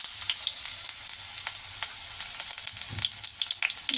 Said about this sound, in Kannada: ಎಣ್ಣೆ ಕಾದಿದೆ, ಅದಕ್ಕೆ ಈರುಳ್ಳಿ ಹಾಕ್ಕೋತಾ ಇದ್ದೀನಿ.